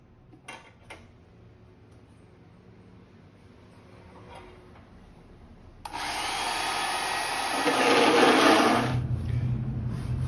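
A saw cutting through angle-cut metal stool legs in a workshop, starting after a few quiet seconds with a loud, harsh, sustained grinding that swells and then drops to a lower hum.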